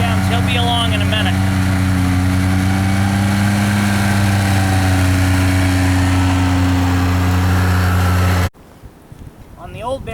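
A 2016 Arctic Cat Bearcat 7000 GS Groomer Special snowmobile engine runs loud and steady at 4,000 RPM with an even droning hum, then cuts off abruptly, leaving a quieter stretch with some voice-like sound.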